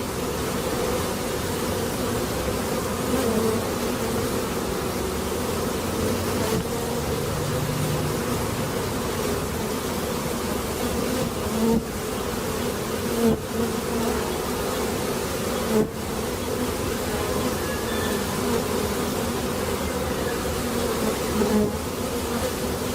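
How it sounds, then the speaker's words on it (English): Honeybees buzz steadily and continuously outdoors for the whole stretch, a dense, even drone with occasional closer passes and no talking. "There's some honeybees here."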